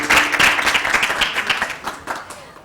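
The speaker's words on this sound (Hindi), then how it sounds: "अपने लिए तो तालियां होनी ही चाहिए।" An audience of high school students and guests claps enthusiastically in a TV studio, dense rapid applause that is loud at first and gradually thins out.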